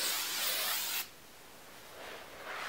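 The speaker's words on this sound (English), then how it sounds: "I'm gonna give everything a nice spray again." A close aerosol hairspray hisses for about a second, stops, then hisses again more softly.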